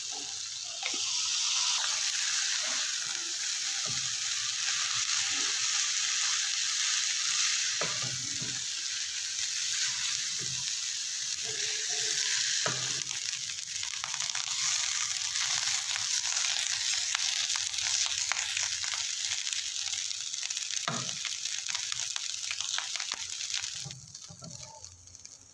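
Chicken fried rice frying with soy sauce, white pepper and black pepper, a long, steady, hissing sizzle with scattered scrapes and knocks of the spatula, fading out at the end.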